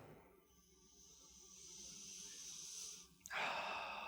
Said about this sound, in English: So let's open the bottle and I'm going to sniff inside it.